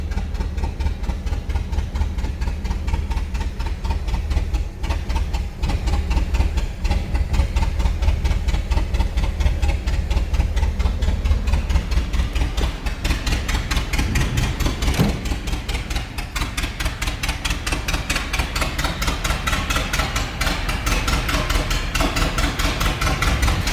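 A 1927 Ford Model T coupe engine idles steadily and smoothly up close, a continuous low rumble with a fine mechanical ticking running throughout, no talk over it.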